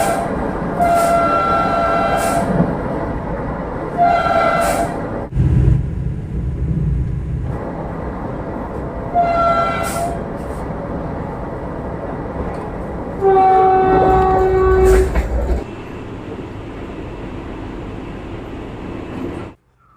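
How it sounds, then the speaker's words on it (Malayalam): A Vande Bharat express train runs with a steady rumble and rail noise, broken by several loud horn blasts at intervals, some short and one longer, before stopping abruptly. "നമ്മൾ വന്ദേ ഭാരതൊക്കെ കയറി വന്നത്"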